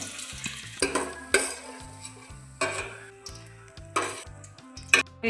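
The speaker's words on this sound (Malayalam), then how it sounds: "1 സ്പൂൺ നെയ്യ് ഒഴിച്ച് കൊടുത്ത് ഇതിനെല്ലാം ഒന്ന് വറുത്ത് കോരി എടുക്കാവേ." Raisins and cashews frying in a spoonful of ghee in a pan, with light sizzling and repeated scraping stirs close by, all under rhythmic background music.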